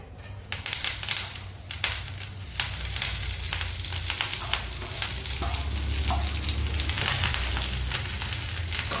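Curry leaves frying in about a tablespoon of oil in a pan, a steady close sizzle with crackling pops and spits throughout, no talking.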